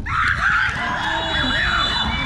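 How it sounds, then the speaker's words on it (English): Soccer players shriek and screech while celebrating a goal in a cup semifinal, heard from the goalkeeper's end: a continuous, loud wall of high-pitched yelling voices. "they got goal number two and you can hear the screeching sound of the celebration"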